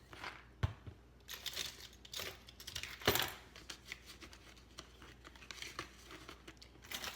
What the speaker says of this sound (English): Trying to find my keys.